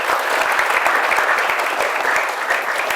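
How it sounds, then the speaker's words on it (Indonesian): Audience applause at an Islamic boarding school event, a dense burst of steady clapping from many hands, close and sustained for a few seconds, with no voices over it. "Tepuk tangan dulu dong sebelum closing."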